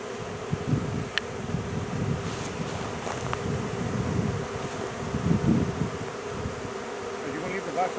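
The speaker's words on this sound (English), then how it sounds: "I see several bees right here fanning." A steady buzz of many honey bees fanning at a swarm box under a trampoline, humming close by outdoors, with wind rumbling across the microphone throughout.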